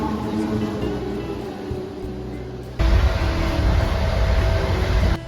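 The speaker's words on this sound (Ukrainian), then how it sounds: "Тому це дуже добре, що цього разу міг потяг хоча б приїхав." A passenger train on a journey to Ukraine rumbles at a station, with a steady low mechanical roar that swells suddenly louder partway through and holds, no voices.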